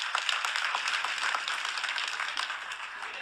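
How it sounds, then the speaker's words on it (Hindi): A large crowd applauds a member of parliament at an outdoor public event, dense steady clapping filling the whole stretch without pause. "एक ताली बजावा सांसद"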